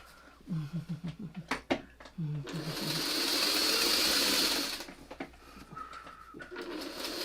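A domestic sewing machine stitching fabric, a steady whirring run of a couple of seconds at close range, with someone talking briefly before and after.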